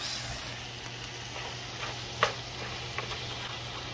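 Brussels sprouts sizzle softly in a pan while mustard is stirred through them, with a steady frying hiss and a few light scraping clicks from the spoon against the pan.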